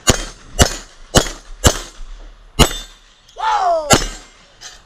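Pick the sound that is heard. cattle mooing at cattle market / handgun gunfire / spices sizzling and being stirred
handgun gunfire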